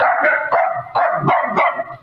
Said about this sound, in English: at least 897 wiener dogs spread out through the streets